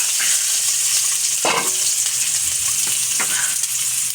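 Chicken necks sizzle and crackle steadily in hot oil in a frying pan, a dense close frying hiss broken by a few louder pops and stirring scrapes.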